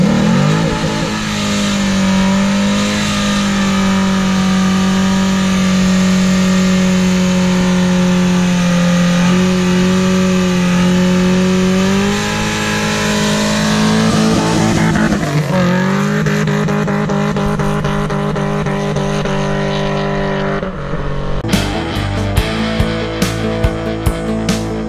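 LQ4-swapped 1981 Camaro Z28 pro-touring car doing a burnout, engine held at a loud sustained high rev for about fifteen seconds, then dropping and revving again, ending in sharp crackling bursts.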